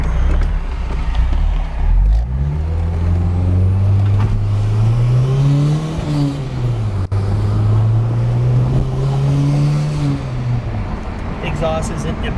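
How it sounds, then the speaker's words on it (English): Exhaust of a 1979 Volvo 262C with a turbocharged B21FT engine, droning low and steady as the car drives, rising and falling gently with speed changes, moderately loud and close. "Exhaust isn't obnoxious loud. It's tastefully done, I think. Doesn't give you a headache or anything, but you can hear it."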